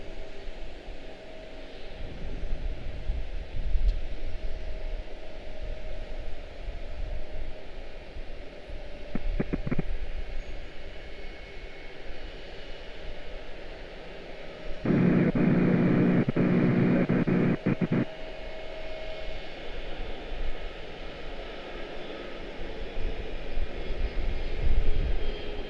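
Heavy jet airliner at Charlotte Douglas spooling up its engines for takeoff to JFK, a sustained roar with steady tonal hum, loudness rising and wavering, interrupted by a brief blocky burst of radio-like noise partway through.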